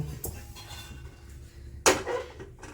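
A wok is set onto a gas stove in a small home kitchen: a few metal clanks and clatters of pots and pans, one sharp loud knock near the end, close by over quiet room tone.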